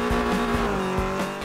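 A 1974 Toyota Celica in the racing game Forza 5 holds a steady, loud engine drone with harmonic whine and a few rhythmic low thumps, revving continuously without speech.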